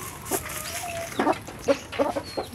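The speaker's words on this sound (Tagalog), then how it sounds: "mga manok" Hens cluck in short, scattered bursts at moderate distance, several calls overlapping against a faint outdoor background, with no talking.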